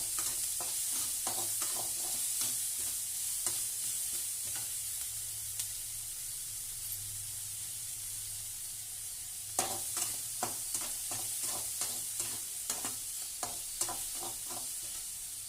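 Frying in a pan while salt is added and stirred, a soft steady sizzle broken by clusters of sharp scraping clicks from the spoon, busier in the second half.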